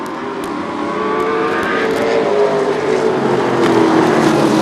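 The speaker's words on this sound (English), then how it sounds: "Rivera now under heavy pressure from the point leader, Tom Carey III in car number 5." Race cars in a Super Short Track Racing Series event roar around a short oval together, engines loud and sustained with rising and falling pitch as they run close, and no commentary over them.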